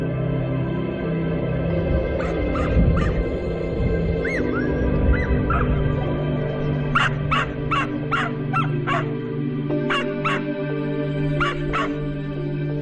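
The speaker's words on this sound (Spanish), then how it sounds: "me recibieron los ladridos de un perro atado entre los restos de vigas y viejas ruedas de vagones" A dog tied up among old beams and wagon wheels at Villa Winter on Fuerteventura barks in repeated sharp bursts, some clustered in quick runs, moderately distant over a low steady background hum.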